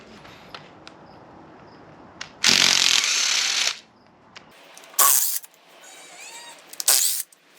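A power tool backs Torx screws out of the front cover of a Jaguar AJ133 5.0 engine, giving three loud bursts of whirring, one long and two short, separated by quiet clicks and handling noises.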